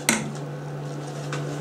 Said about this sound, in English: you stir that in